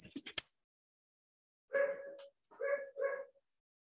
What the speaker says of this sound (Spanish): hay un perro ladrando afuera que no me deja escuchar